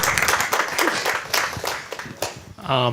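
Audience applause at a Deep Tech Night pitch event, a burst of scattered claps mixed with voices and crowd noise, fading near the end as a voice comes in.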